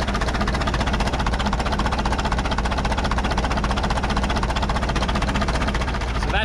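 A 1950s Caterpillar TraxCavator diesel engine, with a leaking head gasket and an exhaust leak, runs steadily up close, its rapid even clatter and vibration filling the whole stretch without letup.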